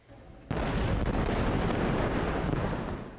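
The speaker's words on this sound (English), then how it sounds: "An explosion in Nuseirat, central Gaza, sends people running for safety." Explosion from an Israeli airstrike in Nuseirat, central Gaza, bursts in suddenly after a quiet moment and sustains as a loud, broadband roar with rumbling debris for several seconds.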